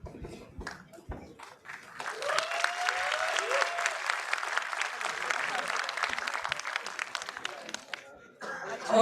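Convocation audience applauding after a stage performance at a college graduation ceremony, broad sustained clapping swelling after a few scattered claps, with a voice speaking briefly near the start and end.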